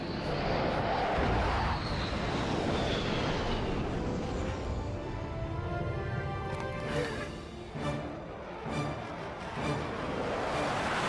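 A propeller plane in the 2009 animated Wonder Woman film is forced down and crashes onto an island, giving a loud, sustained engine roar with rushing, rumbling noise throughout and no voices over it.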